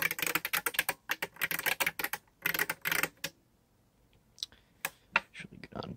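Typing on an IBM 3101 Beamspring keyboard with its solenoid switched off, rapid bursts of crisp, clacky keystrokes close to the microphone, then a pause and a few scattered presses.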